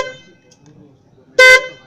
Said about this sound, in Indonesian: klakson F3R keluaran Dr. Fisher